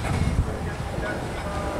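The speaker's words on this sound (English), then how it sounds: "here's our train." A train rumbles past nearby with a steady low roar and faint rattling of its four cars, fairly quiet overall, near Sendai, Japan.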